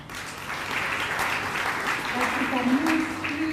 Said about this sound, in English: I think we need to clap for that.